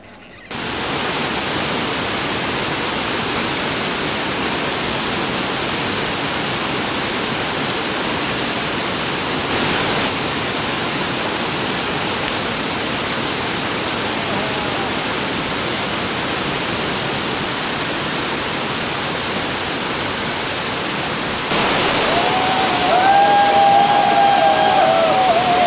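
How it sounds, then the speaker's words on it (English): Roadside waterfall in Kudremukh National Park roars as a continuous broad rush of falling water, loud and steady, rising slightly near the end, with a faint bird call at the end. "This is one of the waterfalls that comes on the roadside."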